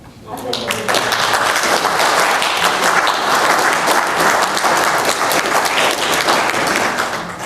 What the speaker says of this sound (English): We give Mr. Lyons a round of applause